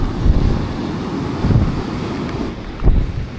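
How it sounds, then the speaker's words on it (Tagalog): During a typhoon on the coast at Dinahican, Infanta, Quezon, strong wind buffets the microphone while large sea waves roar and surge close by, with heavier gusts and crashes swelling at intervals. "Lalaki ng mga alon."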